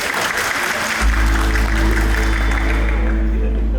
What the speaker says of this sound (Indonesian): Berikan tepuk tangan yang paling meriah.